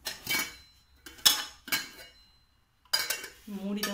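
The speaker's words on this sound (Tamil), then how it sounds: "மூடி தான் சவுண்டு போடும்" A plastic container lid rattles and clatters in a few sharp, close knocks and shakes while a box is handled during unboxing, with a voice heard briefly near the end.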